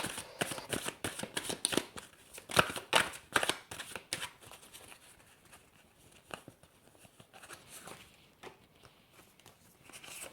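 Tarot cards are shuffled and laid out in a series of quick, crisp riffling and slapping bursts, close and fairly quiet, with a few softer flicks toward the end and no talking.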